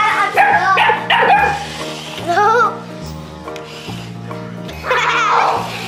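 An English Pointer puppy yips and barks in short bursts over a steady musical background, with a person talking excitedly nearby.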